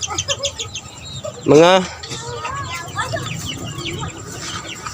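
Chickens clucking in a farmyard, with a loud rooster-like squawk rising near the middle, scattered bird calls around it, and a voice talking over the birds.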